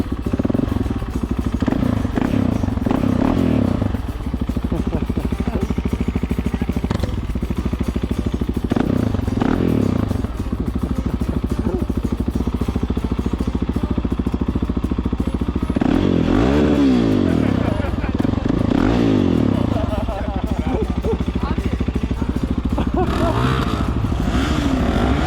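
Several adventure motorcycles being revved on the throttle at a roadside check by a local patrol in Turkey, loud steady engine drone throughout with rising and falling revs, clatter, and voices in the background.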